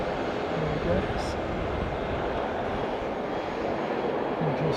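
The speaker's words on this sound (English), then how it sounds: "we just got the ATR in" An ATR turboprop airliner arriving at Auckland Airport from Palmerston North, a moderate steady engine roar with a faint whine, heard from a distance with talk in the background.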